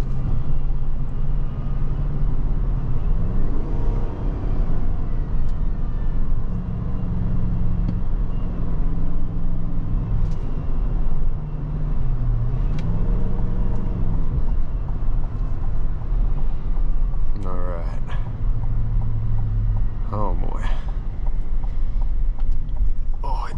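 Engine of a 2021 Chevrolet Suburban LT pulls steadily under acceleration on a road drive, its low drone rising and dropping as the close-ratio transmission shifts, with steady road and wind noise beneath.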